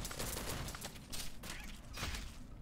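Turret firing in the Hero Siege action game: a rapid, crackling burst of gunfire-like shots that repeats in two or three quick volleys, fairly quiet overall.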